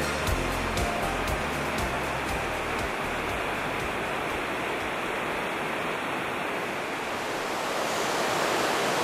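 Water rushes continuously through the Aare gorge in Switzerland, a dense, even roar filling the space at low water flow, with no voices and only slight swells in level throughout.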